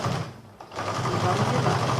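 Domestic sewing machine backstitching across a layered quilted fabric coaster, a steady close whirring motor hum running continuously with a brief dip in the middle.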